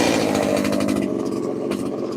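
A chainsaw carving wood runs loud and close, a steady high buzzing whine with slight throttle wavering throughout.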